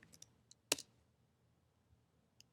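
Keys tapped on a computer keyboard while a password is entered during Raspberry Pi setup: a few faint, sparse clicks, one sharper cluster of keystrokes near the middle, in a quiet room.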